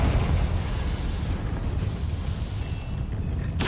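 A Confringo spell explosion in Hogwarts Legacy, a steady low rumbling roar that holds for several seconds and ends in a brief bright crackle, with no voices.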